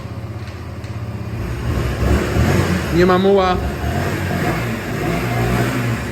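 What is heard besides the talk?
Honda XL 125 Varadero motorcycle engine revving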